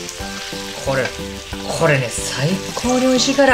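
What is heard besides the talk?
eggplant steak sizzling while basted in a pan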